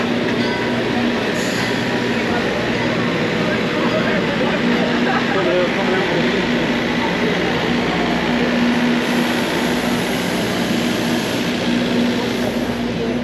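A passenger train heard from inside a carriage runs steadily, with a continuous loud rumble and a sustained drone throughout, rising slightly in brightness near the end. There is no talk over it.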